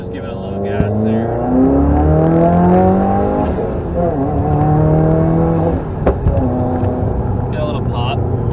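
Subaru WRX accelerating on a highway on-ramp, a steady loud engine drone rising in pitch through the gears, heard from inside the car with someone talking over it throughout.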